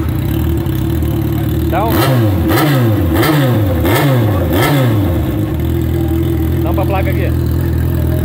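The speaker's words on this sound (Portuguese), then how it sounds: "O amigo vai dar agora uma ligada aí pra vocês verem como é que tá o ronco" A Yamaha Fazer 600 engine with a hole in its exhaust idles with a rough, blatty exhaust, then revs hard four times in quick succession before settling back to idle; a voice speaks briefly.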